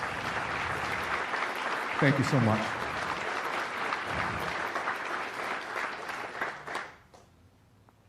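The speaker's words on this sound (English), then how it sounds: "could you please stand so we can give you a round of applause?" Audience applause for the standing spouses of deployed Marines at a Marine Corps relief and appointment ceremony, a steady sustained clapping crowd under a brief spoken thanks, fading out near the end.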